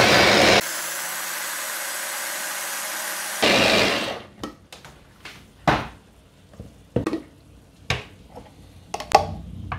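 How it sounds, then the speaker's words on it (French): A kitchen blender purees tomatoes for a homemade tomato sauce, whirring loud and steady for about three seconds before stopping, followed by scattered clicks and knocks of utensils and container handling. "on va tout simplement la mixer et l'incorporer"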